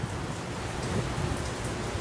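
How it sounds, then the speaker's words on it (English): Steady rain pours down in a dense, continuous hiss, loud and close, on a windy day, with no voices. "But yep, it is raining again."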